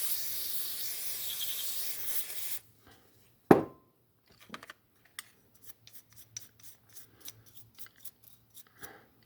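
Old residual grease is scrubbed from the main gear teeth of an Abu Garcia 759BW spinning reel, a sharp scrape followed by a string of faint, short, irregular scratching strokes, close and otherwise quiet.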